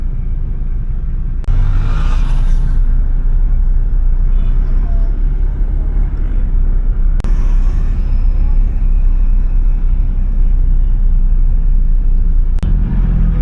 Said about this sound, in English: Two-way heavy traffic.